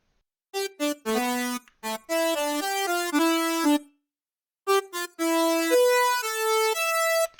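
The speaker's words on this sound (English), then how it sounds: "In the middle of the beat, I had this little lead part that happens for 8 measures" A bright synth lead made with Serum plays a short melodic phrase of sustained and clipped notes, with a brief pause midway before the line resumes.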